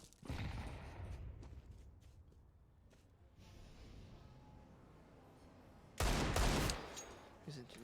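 Counter-Strike match on the Overpass map, with bursts of gunfire early on and a sharp, loud volley near the end, mixed with quieter game ambience.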